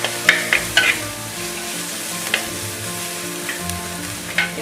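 Onions sautéing in a clay pot for fish curry, with loud sizzling and several scraping stirs of a spoon against the pot, steady frying hiss underneath.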